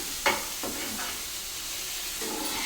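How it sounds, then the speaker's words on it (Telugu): Bitter gourd fry with coriander being stirred in a pan: a soft steady sizzle with a few close scraping strokes of the spoon, quiet and continuous, with no talking. "ఇక కొత్తిమీర వేసుకున్న తర్వాతకైతే ఒకసారి కలుపుకుంటున్నా"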